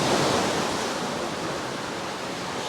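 Sea water washes in on a rocky beach at Ponta de São Lourenço, Madeira, a broad, steady hiss of surf that holds evenly and fairly close, with no voices over it.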